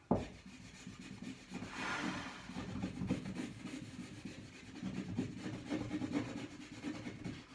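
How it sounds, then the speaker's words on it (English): Steady rough rasping strokes, back and forth on wood, continuing for several seconds at close range with no talking. "Yeah, I'm sawing this mark to pieces."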